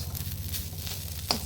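Pumpkin and Malabar spinach frying in a pan give a close, continuous sizzle with a soft bubbling texture, steady and moderately loud, with one brief sharp click near the end.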